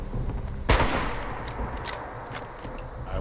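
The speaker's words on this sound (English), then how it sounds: "so I can shoot you in the damn head" A single sharp gunshot cracks loudly in the Fallout 76 video game, followed by fainter, brief bangs over a steady background rumble.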